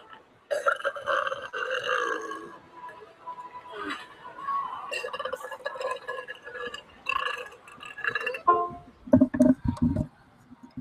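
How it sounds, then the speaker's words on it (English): A series of loud, drawn-out burps follows in quick succession, close to the microphone, some long and croaking, with a cluster of shorter rough bursts at the end. "I bet you wish you could buy all the products that I just burped on, huh?"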